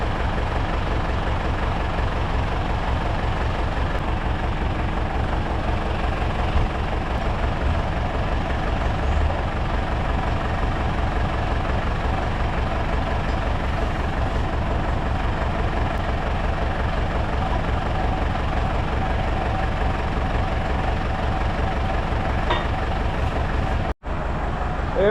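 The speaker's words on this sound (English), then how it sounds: "While this tractor's warming up, I'm going to stack the weights up here." A farm tractor idles as it warms up, a loud, steady low engine drone with an even throb that runs unbroken before cutting off abruptly near the end.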